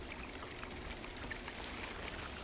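Water bottle being refilled in the survival climbing game Cairn: a steady, faint, continuous pouring and trickling stream of water running unbroken throughout, with no voices.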